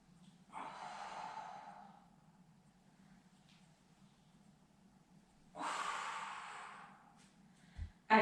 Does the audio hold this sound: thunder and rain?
no